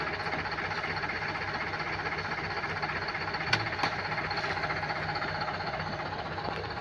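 A tractor hauling a load with its engine running steadily, a constant chugging drone with faint knocking, holding an even loudness throughout with only a couple of brief clanks.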